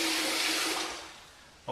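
Tap water runs briefly at a sink while a straight razor is rinsed off during a shave, a close hissing splash that fades out after about a second.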